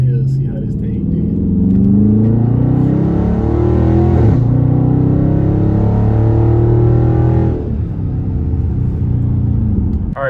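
A straight-piped widebody Dodge Charger Scat Pack pulls hard up a hill, its loud, raw exhaust roaring and rising in pitch through two gear changes, close and continuous.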